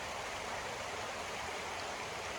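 Sam's Creek in Golden Bay flowing steadily, a constant close broadband rush of water that stays even throughout with no voices.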